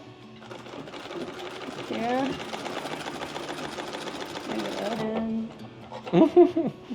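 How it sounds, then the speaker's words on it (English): A sewing machine runs steadily for several seconds with a fast mechanical whir, then stops; a person speaks briefly near the end. "This is the sewing machine."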